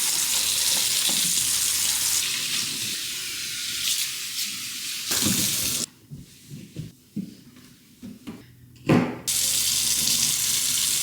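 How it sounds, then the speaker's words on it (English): A kitchen tap runs into a sink, filling it with cool water, a steady rushing stream that cuts off midway, gives way to a few clinks and splashes, then resumes just as loud. "now that I've filled up my sink with cool water"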